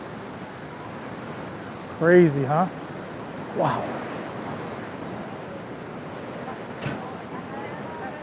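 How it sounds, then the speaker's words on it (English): Waves surge and pound against a rocky beach wall at high tide at Hua Hin, Thailand, a steady roar of surf and wind with a few louder splashes, while people exclaim briefly nearby. "That water's pounding up against the wall here."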